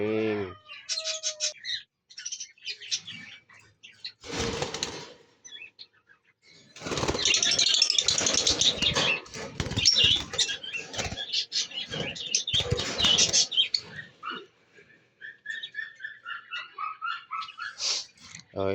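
A bird being caught and handled, with bursts of wing flapping and scattered chirps and tweets, close by, broken by pauses.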